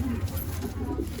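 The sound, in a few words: Madrasi pigeons cooing in a pigeon loft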